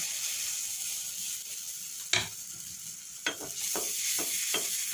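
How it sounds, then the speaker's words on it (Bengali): Malpua batter drops into hot oil in a pan and fries with a continuous close sizzle, broken by several sharp crackling bursts as more batter hits the oil. "এদিকে কড়াইতে তেল দিয়ে দিয়েছি এখন পিঠাগুলো গরম তেলের উপরে এইভাবে ছেড়ে দেবো"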